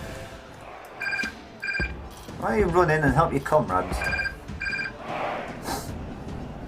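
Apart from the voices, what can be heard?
telephone ringing in the room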